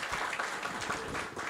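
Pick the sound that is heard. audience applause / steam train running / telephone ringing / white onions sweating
audience applause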